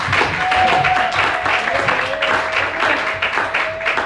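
A church congregation applauds together, a steady, dense wash of clapping that fills the room throughout, with a sustained tone running underneath and faint voices mixed in.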